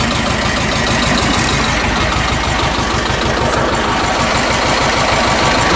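A tractor engine runs steadily while spraying rapeseed in a field, a loud, even diesel throb with a regular pulsing knock that continues close by without pause, with no talk.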